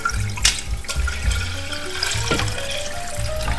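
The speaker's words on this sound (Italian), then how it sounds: "Allora mettiamo l'acqua, mettiamo dell'acqua sotto, abbondante l'acqua" Water running steadily into a pot, filled generously for steaming chicken, with a continuous splashing, gurgling flow and a few louder knocks against the vessel.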